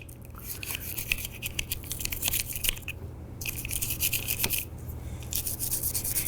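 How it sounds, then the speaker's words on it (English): Steady brisk scrubbing of a solvent-wet brush working over the rails and channels of a Glock 44 handgun slide, close and continuous with rapid rasping strokes and no talk. "we're gonna brush out the slide with solvent"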